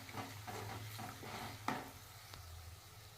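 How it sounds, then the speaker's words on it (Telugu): Ginger garlic paste with turmeric frying in a pan while being stirred, a soft, quiet sizzle with scraping stir strokes at a steady rhythm and a sharp clink of the spoon partway through. "ఇది మంచిగా పచ్చివాసన పోయిందాక ఫ్రై చేసుకోవాలండి"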